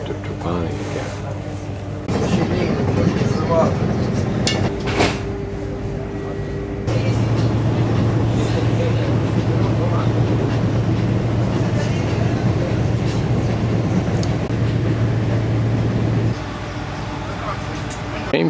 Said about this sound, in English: Modern train, but it only runs about a 2-hour schedule down to Castleventrano and then back up to Trapani again.